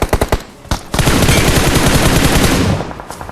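Gunfire in PUBG Mobile: a few quick single shots, then a loud sustained burst of rapid automatic fire that stops abruptly, with a faint shot afterward.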